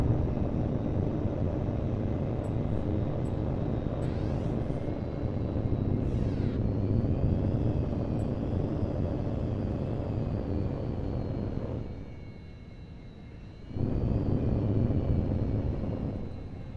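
An F-15C jet engine roars steadily in the combat flight game H.A.W.X. 2, a loud continuous drone with brief whooshing sweeps, dipping quieter for a couple of seconds near the end before the full roar returns.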